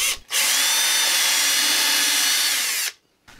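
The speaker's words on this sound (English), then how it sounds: "Some tape is used to hold it in place while I drill out the holes." A power drill whines steadily for a few seconds, boring holes through an engine mount template taped in place on a model Pietenpol Air Camper, starting and stopping abruptly, loud and close.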